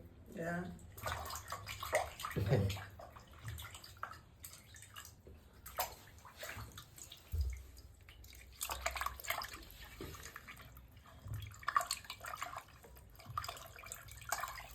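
Water sloshes and splashes as fish are rinsed by hand in a bucket, with continuous swishing and a person talking over it.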